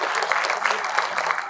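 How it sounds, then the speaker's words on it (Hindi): An audience claps to welcome a guest speaker at an event in Rudraprayag, producing a brief, steady, fairly loud wash of applause with no pause. "आपकी जोरदार तालियों के साथ आप उनका स्वागत कीजिए"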